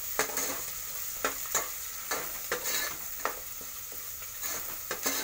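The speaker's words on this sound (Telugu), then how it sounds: "బాగా నూనెలో అయితే వేగాలి." Ingredients for a mutton curry sizzle in hot oil, a steady soft frying hiss broken by repeated scraping stirs of a spoon in the pan.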